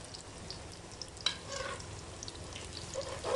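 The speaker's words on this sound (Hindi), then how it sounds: "मैं पकौड़े तलना स्टार्ट करूँगी" Spinach pakoras frying in hot oil in a kadai, with a steady broadband hiss and crackle, a sharp spoon clink partway through and small pops of bubbling oil, heard close up without talk.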